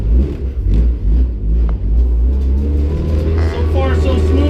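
A Honda car with a B-series transmission drives along at cruising speed, its engine rumbling steadily and loudly up close from inside the cabin, while a person talks over it.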